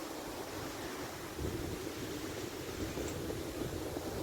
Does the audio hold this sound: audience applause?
no